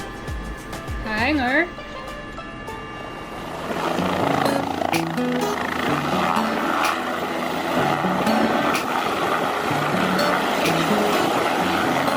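A small propeller plane taxis back to the hangar after landing. A steady engine drone swells after a few seconds and holds, fairly close, with a voice speaking over the start.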